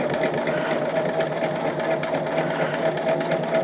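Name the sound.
sewing machine stitching quilt block units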